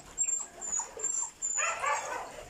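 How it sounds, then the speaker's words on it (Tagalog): A pet dog gives a few soft, distant yips and barks inside a flooded home, over a steady high whine and background noise, with a louder burst of activity partway through. "Tingnan mo yung aso ko, oh."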